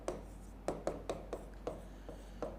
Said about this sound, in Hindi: तो मैं लिखता हूं, ये देखें अभी